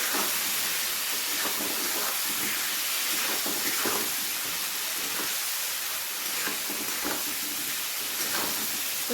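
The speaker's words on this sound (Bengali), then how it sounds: "এবারে সমস্ত মশলাগুলোকে আলু আর টমেটোর সাথে ভালো করে কষিয়ে নেব।" Spices frying with potato and tomato in a pan for a fish-head cabbage dish: a loud, dense, steady sizzle hisses throughout, broken by repeated stirring scrapes, close up and with no talking.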